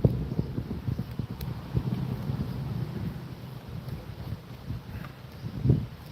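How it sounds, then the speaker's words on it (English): Strong gusty wind blowing outdoors, buffeting the microphone in low rumbling bursts that rise and fall unevenly over several seconds. "It's so windy out here."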